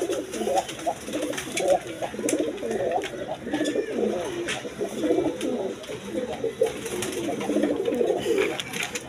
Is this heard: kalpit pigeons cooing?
yes